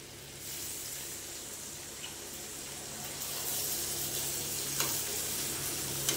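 Water left over from grinding onion paste is poured into a pan of chicken rezala, and the faint, steady sizzle swells into a louder hiss as the liquid hits the hot pan.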